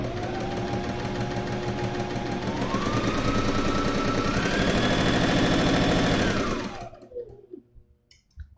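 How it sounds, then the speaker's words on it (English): A sewing machine driven by a foot pedal hums and clatters rapidly, its pitch rising as it speeds up, then winds down and stops, leaving faint handling noises. "you'll hear that the sewing machine starts going faster"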